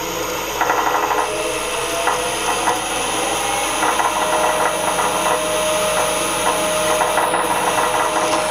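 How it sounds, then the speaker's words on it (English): A 3 mm pilot drill bores a hole in metal, with a steady machine motor hum and intermittent scraping, chattering cutting bursts over it, close and fairly loud, no voices. "so I'll put a pilot drill in 3 millimeter diameter."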